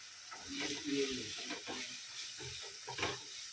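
Steady sizzling and crackling of spices with ginger and garlic frying in a pan for biryani masala, with occasional stirring scrapes, close and moderately quiet.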